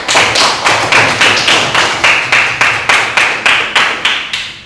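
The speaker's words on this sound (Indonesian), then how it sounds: "Tepuk tangan dulu buat kelompok 4" Rhythmic clapping fills an Indonesian civics classroom for student group four, a steady run of about a dozen sharp, even claps, loud and close, with no talk.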